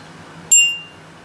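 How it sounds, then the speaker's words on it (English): One bright metallic ping from a small toy metal xylophone bar struck once, a clear ringing tone that decays over about half a second in a quiet room. "So here is a little xylophone."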